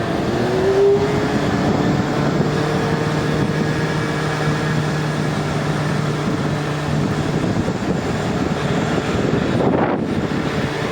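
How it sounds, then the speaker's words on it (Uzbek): Wind blows steadily outdoors near water, a constant broadband rush buffeting the microphone, with a faint low droning hum running beneath it for most of the stretch. "shamol yaxshi bo'lyapti"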